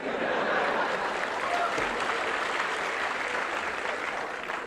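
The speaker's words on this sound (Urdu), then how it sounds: "آپ اس پر بھی تالیاں بجا رہے ہیں" University lecture hall audience at Aligarh Muslim University applauding, a continuous broad wave of clapping mixed with some chuckles, steady throughout and easing slightly at the close.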